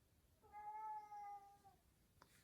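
A cat gives a single clear, drawn-out meow lasting about a second, fairly faint and alone in a quiet room, followed by a tiny click.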